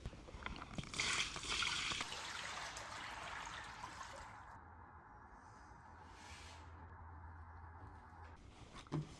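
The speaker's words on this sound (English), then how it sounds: "I want to test it with some water" Water splashes and trickles steadily for several seconds onto furniture made of jelly beans, a broad hissing pour with sloshing, close by and fairly loud, with no talking.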